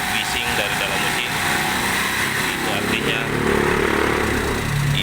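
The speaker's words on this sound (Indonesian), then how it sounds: "kita naikkan RPM-nya. dengarkan suara mesin." A used car's engine is revved to higher RPM, its close, steady running hum climbing into a higher, stronger whine partway through.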